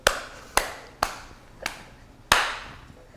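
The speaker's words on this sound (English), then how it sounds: "Do you need a sync clap?" Sharp hand claps for syncing a film sound recording on a Zoom and H4, five crisp strikes spaced unevenly, close and loud, each with a short decay and no talk.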